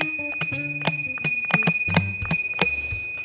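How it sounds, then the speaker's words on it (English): A Mirrycle Duet bicycle bell struck repeatedly in quick, uneven succession, bright close metallic dings with long ringing tails layered over each other, alone with no talking. "a very classic little product, and that's the Duet bell from Miracle"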